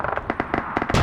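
Rapid bursts of gunfire and explosions from a large-scale Arma 3 player-versus-player battle crackle in quick succession, loud and close, with a heavier blast closing the burst.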